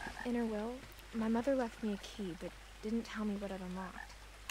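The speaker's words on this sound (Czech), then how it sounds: "Žabky, žabky, žabky, žabičky." Frogs croak in the video game What Remains of Edith Finch, a chorus of repeated, throaty calls in short bursts with brief gaps between them, fairly loud and close, with no talking.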